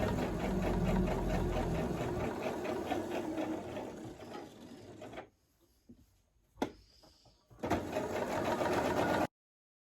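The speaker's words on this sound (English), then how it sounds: "make sure you go straight on the line and keep removing pins if you have used the pins" A sewing machine stitches fabric in a straight line, a loud, close, steady mechanical whir that runs continuously for about five seconds, stops with a brief clunk in the pause, then starts up again before cutting off.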